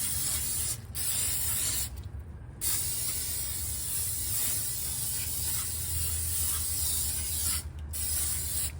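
Long, close hissing bursts of spray coat the grates of a Lone Star Grillz Santa Maria grill, with a few short pauses between passes and no voices.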